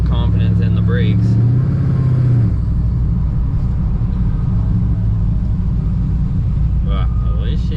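Supercharged 426 HEMI engine in a Dodge Dakota running loud and close, a deep heavy rumble with a rising rev early on, then a steady throbbing idle while someone talks over it.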